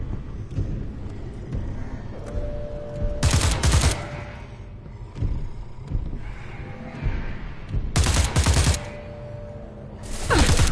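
Rapid video game gunfire aimed at machines, a rattling stream of shots under a rumbling background, with several louder, harsher bursts breaking through at intervals.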